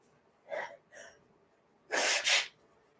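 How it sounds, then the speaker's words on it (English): A couple of quick sharp inhales build up, then a loud explosive sneeze with a double burst, close by. "Sorry, I'm going to sneeze."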